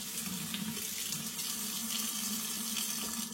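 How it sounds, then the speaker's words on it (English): Water pours steadily from a Moen Riley faucet in matte black into a sink, a continuous close, even splashing rush with no talk over it. "So this faucet right here, it's the Moen Riley faucet in matte black."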